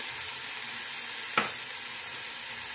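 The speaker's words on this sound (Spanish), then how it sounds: "sellar las costillas no lleva más de 2 minutitos, ¿ves? Ya están selladitas." Pork ribs sear in a hot pan with a steady, bright sizzle, broken by one short pop or crackle midway, and no talking over it.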